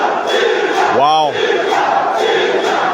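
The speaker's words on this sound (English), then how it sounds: "And now the crowd bursts into song and half a dance, rallying behind the name of Caesar." A crowd at a men's final of a national open sports tournament chants and cheers in support of a player, a loud, continuous roar with a sweeping rising tone briefly over it.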